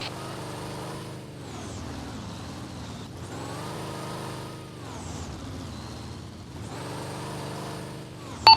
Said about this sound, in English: The thing doesn't run very well on flat tires,